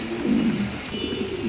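A Red Danish pigeon cooing close by, a soft, low, rolling coo that wavers on for the whole short moment over a faint steady background hum.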